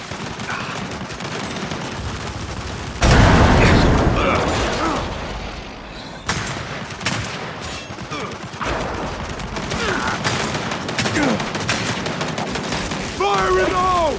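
Turret gunfire in the video game Gears 5, a dense loud fusillade of rapid shots and booms in a heavy firefight, with voices talking over the battle.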